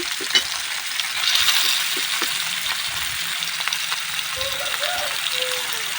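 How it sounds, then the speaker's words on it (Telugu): Spiced paneer pieces fry lightly in a pan, giving a continuous sizzle with scraping stirs and a few utensil knocks, loud and near. "కొంచెం కొంచెంగా వేసేసుకొని అయితే కొంచెం ఫ్రై చేస్తున్నాను లైట్గా"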